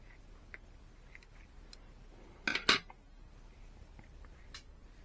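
A quick pair of crisp snipping clicks from small scissors cutting open a snake egg near the microphone, in an otherwise quiet room with faint background noise.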